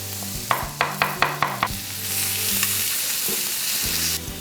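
Small chicken breast pieces sizzle steadily in a frying pan, loud and close, with a series of sharp clacks of a utensil stirring near the start.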